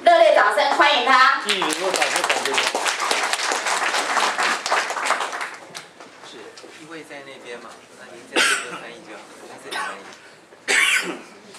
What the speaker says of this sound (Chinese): 热烈掌声欢迎他